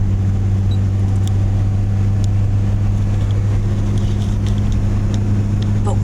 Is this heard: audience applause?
no